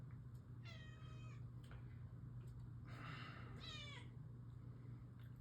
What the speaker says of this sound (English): my cat wants to be part of this